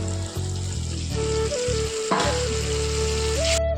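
Ginger paste, salt, chili, turmeric and cumin powders frying in hot oil, a steady close sizzle with stirring scrapes and a faint background hum throughout.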